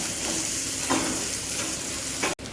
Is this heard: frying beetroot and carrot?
yes